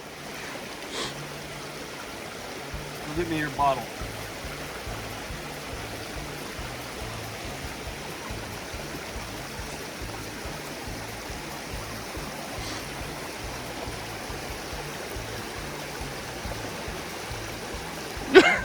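Water streams steadily along the Appalachian Trail, a constant broadband rush filling the background, with a brief spoken remark near the start and a few small knocks.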